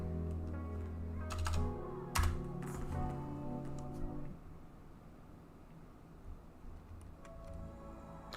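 Keys clacking on a computer keyboard while searching a website, with several quick bursts of taps early on, then quieter intermittent tapping toward the end.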